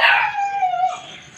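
A neighbour's dog next door gives a drawn-out, whining howl-like bark that slides downward and fades, heard from close range.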